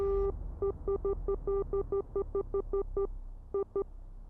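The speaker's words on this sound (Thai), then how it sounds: "อันนี้คือเสียงแตรนะครับ เสียงแตรเนี่ยจะเหมือนสัญญาณมือถือนะครับ" Truck horn in the Truckers of Europe 3 driving game, an electronic beeping tone like a phone signal sounded in a rapid irregular series of short pulses over a low engine hum.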